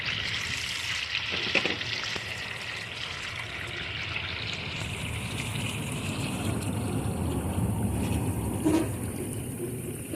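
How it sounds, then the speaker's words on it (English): Water pouring into a pan set up for cleaning bluegill and crappie, a steady splashing trickle running continuously for about ten seconds, fairly close with no voices. "Some more water I'm going to put in here"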